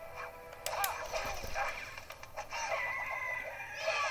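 Cartoon chicken clucks and crows from The Grim Adventures of Billy & Mandy video game, a busy run of short bird calls layered over steady game music and effects.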